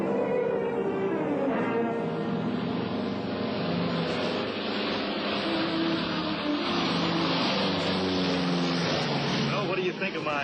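A loud propeller engine drones steadily close by, its roar sustained throughout with people talking faintly beneath it.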